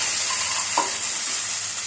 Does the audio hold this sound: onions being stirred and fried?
yes